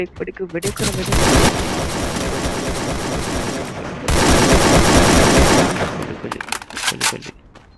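Rapid bursts of gunfire from a Free Fire battle royale match, sustained loud volleys with a short break between them and looser scattered shots trailing off at the end.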